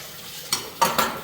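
Pet food dishes clatter as they are handled in hot soapy water at a kitchen sink, making three short, close clinks and knocks after a quiet start.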